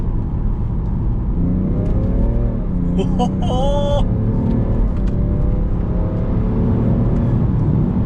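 A BMW 335d M Sport's straight-six diesel engine drones steadily and climbs in pitch as it accelerates on a back road, heard from inside the car, with brief higher tonal chirps partway through.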